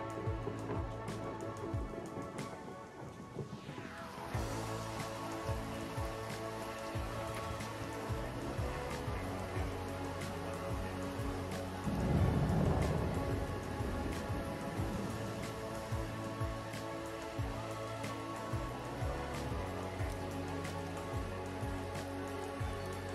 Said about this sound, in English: Warmer days and rain were soon to return, and with them the thunder and lightning came